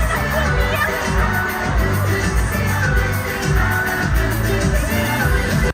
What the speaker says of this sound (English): That's a big crowd.